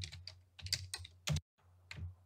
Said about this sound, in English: So let's go ahead and type it.